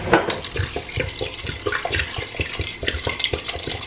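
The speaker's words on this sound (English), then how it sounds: "And now I'm just gonna fill this with water." Water pours into an Instant Pot over sautéed vegetables for a vegetable broth, a close, continuous splashing and gurgling stream with irregular bubbly bursts throughout.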